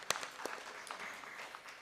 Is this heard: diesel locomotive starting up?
no